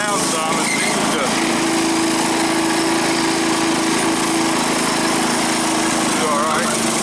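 Wheel Horse 315 lawn tractor engine, with an old fuel line recently replaced, running steadily at full throttle, a loud close continuous drone with a faint whine, without a pause.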